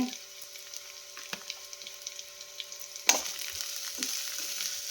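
Onions frying in a pan with salt and turmeric for benne dosa: a faint, steady sizzle with occasional soft clicks and stirring taps, one louder clatter midway, no speech.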